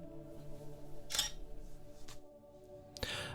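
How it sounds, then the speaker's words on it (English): A steady electronic hum, then a few sharp mechanical clicks and whirs of a camera powering down as its battery runs out, ending in a louder burst of noise. "that was the sound of my camera running out of battery power"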